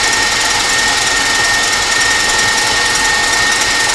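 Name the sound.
KitchenAid stand mixer whipping egg-white meringue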